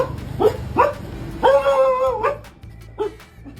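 A dog guarding a home shop gives several sharp, close barks and yips, including one longer drawn-out whining bark, with brief pauses between.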